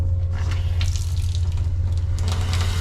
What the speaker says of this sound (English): my favourite part is the hot water tap